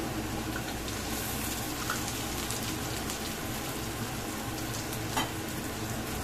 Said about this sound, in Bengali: এই সময় তাহলে আমি মশলাটা দিই।